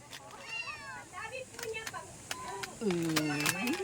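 Cat meows scattered through the clip, then a longer, louder drawn-out meow near the end, with people talking in the background.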